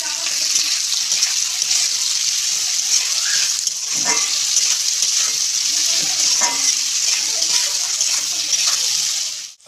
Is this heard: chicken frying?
yes